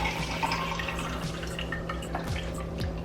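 Room-temperature water is poured from a Brita pitcher into a container, a steady, close trickle and gurgle with rising fill tone and a few splashy bursts, no talk.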